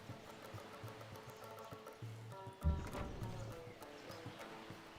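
Horse hooves clip-clop in the strategy game Civilization 5, a quiet run of steps under game music, with a louder thud near the middle.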